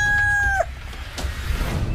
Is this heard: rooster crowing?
yes